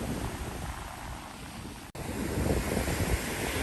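Strong wind roars across a beach on the west end, buffeting the microphone with constant heavy noise, while breaking waves add a low rushing wash underneath; a brief dropout interrupts midway.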